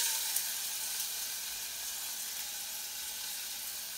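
Tomatoes hit a hot pan and sizzle in a dense, even hiss that fades slightly, heard up close and without any talking over it.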